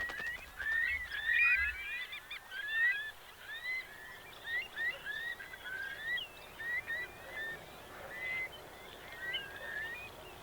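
Birds returning to roost in the sheltered backwaters of a Hong Kong marsh at dusk, many faint chirps and calls scattered across a distant chorus over a low steady background.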